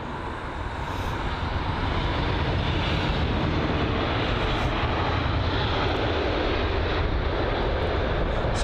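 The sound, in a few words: Lufthansa Airbus A320neo jet airliner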